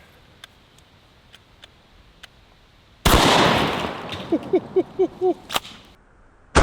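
A shotgun slug fired into a concrete cinder block from a short distance makes one sudden, loud blast. Debris rattles and clatters after it, and a few sharp ticks follow. Faint clicks come before the shot, and the scene is quiet apart from the blast.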